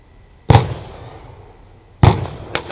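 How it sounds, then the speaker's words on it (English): Artillery pyrotechnics at an outdoor arena battle display at a war and peace show: two loud booming blasts about a second and a half apart, then a third sharper bang, each with a rumbling decay. "Here comes the artillery now."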